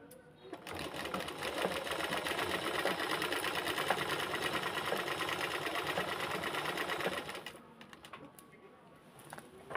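A sewing machine stitches a fall border onto a saree, running in one steady, close, whirring burst for several seconds before stopping, with faint room noise after.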